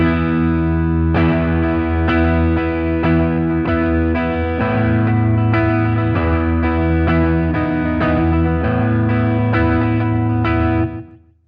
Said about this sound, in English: this is with a slapback delay on